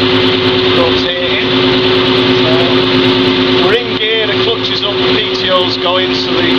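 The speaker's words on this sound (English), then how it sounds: "Going so the oil is pumping around, so take a look at the drum." Land Rover MKII hydraulic winch running with its drum rotating and oil pumping, a steady close mechanical hum and whine under a man's speech.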